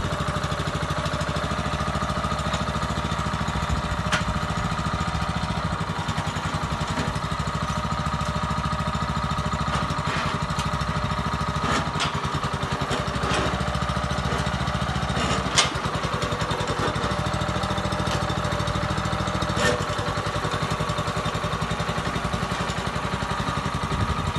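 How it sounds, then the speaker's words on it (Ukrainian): A Weima walk-behind tractor with a cast-iron gearbox runs with a loud, steady engine drone. The chugging stays constant and close throughout. "Мотоблок дійсно заслуговує своєї уваги, саме зараз ми покажемо, як він запускається"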